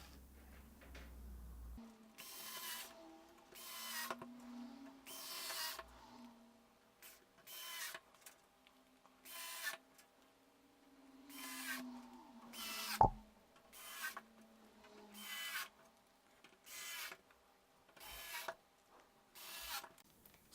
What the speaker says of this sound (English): So we're back on with the screwdriver, and we need all our screws back as well.